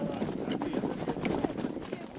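A herd of horses clip-clops down Main Street during the annual Three Forks Horse Drive, a steady jumble of hoofbeats with a busy outdoor murmur beneath.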